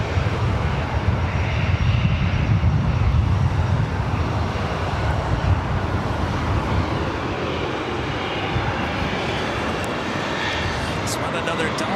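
A Delta Airbus A350 jet airliner at LAX gives off a loud, steady roar of engines that fades slightly over twelve seconds, and a voice speaks over it.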